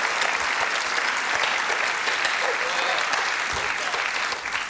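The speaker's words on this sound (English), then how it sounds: "a special round of applause for who I presume is the inevitable winner" A studio audience at a comedy game show applauds Tim Key, a full dense round of clapping holding steady and close for several seconds before easing slightly at the end.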